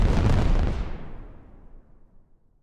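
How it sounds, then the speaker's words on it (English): Commercial-grade fireworks bursting a couple hundred feet from a bedroom window, a loud booming blast with rumbling crackle that fades into a long rolling echo over nearly three seconds. "shoot off these commercial grade battlefield explosions a couple hundred feet away from my bedroom window"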